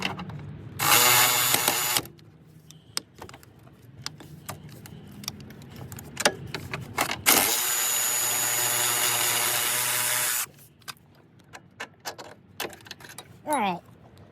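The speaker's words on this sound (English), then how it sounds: "Really, this electric ratchet about broke my finger." An electric ratchet buzzes in two loud bursts, one short and one about three seconds long, as it loosens motor mount bolts on an Audi 2.0T engine, amid clinks and rattles of tools and metal.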